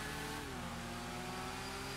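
A wide motorcycle's engine in GTA V Online holds a steady, droning mid-pitched hum with a slight waver, continuous and up close for two seconds with no voices over it.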